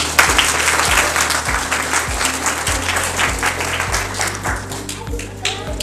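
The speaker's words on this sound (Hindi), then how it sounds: "आप सबसे ताली बजाने का अनुरोध करता हूँ।" Audience applause at an award seminar hall, steady clapping under a repeating low thumping beat of music that runs throughout.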